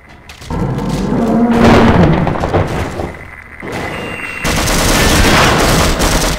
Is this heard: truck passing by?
no